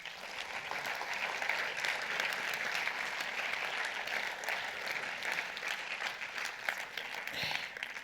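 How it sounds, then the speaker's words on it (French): Steady, sustained audience applause fills an award ceremony hall at a film festival, a dense even roar of many hands clapping for the full length with no pauses. "rejoindre sur scène Monsieur Tamer Rougli, sous vos applaudissements."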